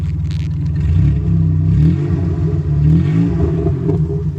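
Loud, raw engine revving of a Subaru XT6 coupe's six-cylinder with no muffler, a rough, throaty growl rising and falling in short bursts close by, without voices.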